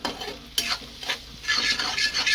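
Fried rice stirred in a pan with a spatula: scraping strokes and light clinks over a soft sizzle, several uneven stirs close by with no talking.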